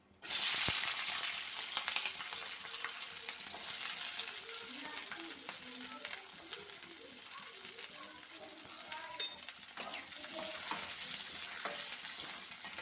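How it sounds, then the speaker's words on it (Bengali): Kalmi greens fry in hot oil in a wok, a steady close sizzle and crackle running throughout with light stirring scrapes, starting with a sharp hiss as they hit the oil. "কড়াইতে তেল দিয়ে দিলাম, তাড়াতাড়ি করে শাকটা ভেজে নেব।"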